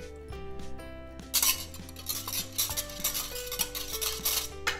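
Banana pancake batter with melted butter is stirred in a bowl, producing repeated clinks and scrapes of a utensil against the dish along with soft rhythmic stirring noises at close range.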